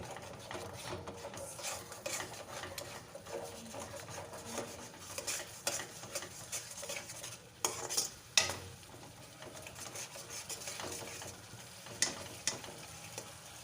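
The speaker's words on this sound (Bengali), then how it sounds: "সামান্য একটু জল দেবো মশলার মধ্যে। ভালো করে আবারও কষিয়ে নেব।" Spice paste with a splash of water is stirred and fried in a pan for potato curry, with a continuous soft sizzle under repeated scraping strokes of a utensil and occasional sharper clinks against the pan.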